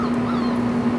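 Puppies whimper outdoors on a warm day, a thin high whine held steadily throughout at moderate distance.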